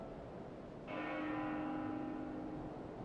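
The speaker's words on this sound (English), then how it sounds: "That bell sound must be coming from somewhere." A church bell strikes once in Xenoblade Chronicles 2 and holds a long, ringing tone that hangs and slowly fades over steady ambient background, with no talking.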